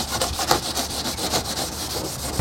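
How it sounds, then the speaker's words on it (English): Kitchen scrubber worked back and forth on a car's inner fender, a close, loud, continuous rapid scrubbing rasp with quick regular strokes and no talk. "use the kitchen scrubber if you got some really tough areas"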